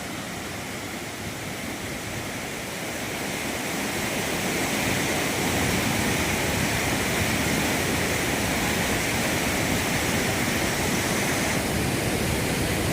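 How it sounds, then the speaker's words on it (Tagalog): Waterfall at the Santol, La Union view deck, a broad steady rushing roar of falling water that grows slightly louder after the first few seconds, then holds constant and close. "First time ko maka-video ng falls."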